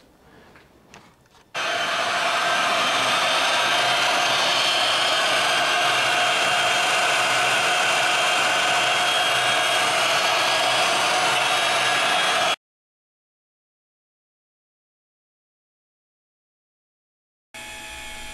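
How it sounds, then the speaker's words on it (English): Harbor Freight sandblaster blasting small metal steering parts, a loud continuous close hiss of air and grit lasting about ten seconds, then silence before it briefly starts again. "this Harbor Freight sandblaster works pretty good after, you know, 2 or 6 or 12 modifications."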